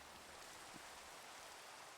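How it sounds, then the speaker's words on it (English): Nighttime rain in Minecraft, a soft continuous wash of falling water at low level, steady and unbroken with no voices. "It is very rainy."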